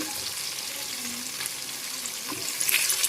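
Drumstick pieces tipped into a hot pan of oil with fried dry red chillies for sambar, giving a steady broadband sizzle that swells slightly at the end as the pieces settle.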